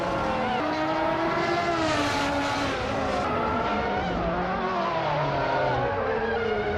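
A Ligier JS41 race car engine roars continuously in a racing video game, its pitch sweeping up and down through gear changes, loud and close, with faint tire squeal.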